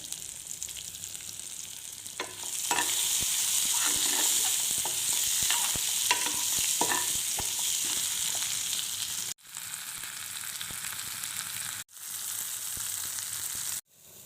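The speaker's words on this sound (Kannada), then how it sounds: "ಒಗ್ಗರಣೆ ಹಾಕ್ತಾ ಇದ್ದೀನಿ" Tempering for a dantina soppu and palak greens sambar sizzles loudly in a hot pan, a steady bright hiss punctuated by spoon scrapes and stirring clicks, with a few abrupt cuts near the end.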